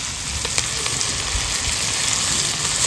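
Spices with chilli, ginger and garlic frying in oil for a fish curry, a loud, dense, continuous sizzle with a few sharp crackles, close up.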